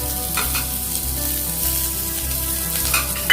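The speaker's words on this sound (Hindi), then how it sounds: "और इन दोनों को मैं अच्छे से फ्राई कर लूंगा।" Chopped onion and green chilli fry in hot oil for an egg curry, giving a loud, continuous sizzle that holds steady throughout, with a sharper spatter near the end.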